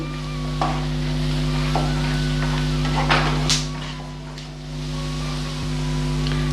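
Pieces of chicken frying in a pan for pepper chicken, a steady close sizzle with scattered scraping clicks of a spoon stirring and mixing, no talking.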